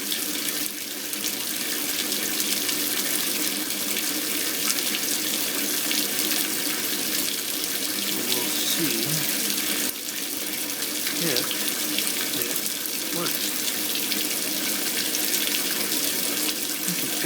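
Water from a solar-powered aquaponics system in Hawaii pours steadily into a grow bed of porous cinders, a continuous close rushing and splashing flow like a running tap, with no talk over it.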